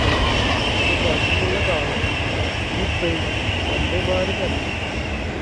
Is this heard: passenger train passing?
yes